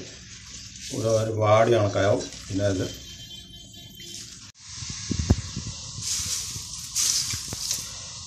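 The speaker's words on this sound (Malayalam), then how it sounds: "എണ്ണ നല്ല തിളച്ച എണ്ണയിൽ മാത്രം ഫ്രൈ ചെയ്യുക" Jackfruit chips deep-fry in boiling oil, a bright hissing sizzle with sharp pops and crackles that rises close up after someone speaks briefly at the start.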